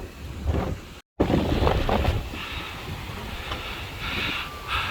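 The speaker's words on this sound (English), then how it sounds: "it is a very windy day" Steady, heavy wind roars and buffets across the microphone outdoors in the Philippines, with gusty surges and a brief dropout partway through.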